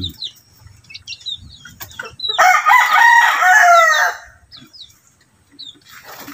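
A bird call from a modified alimukon caller, a loud, close, warbling cry that lasts a couple of seconds in the middle, with faint chirps and quiet background sounds before and after.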